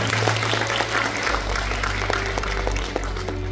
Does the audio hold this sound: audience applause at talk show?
yes